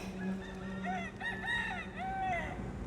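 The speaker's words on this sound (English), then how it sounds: "One starts crowing, they all start crowing." Several roosters crow in repeated rising-and-falling calls from bushes across the way, fairly close and loud against a steady outdoor background hum, with one call following another.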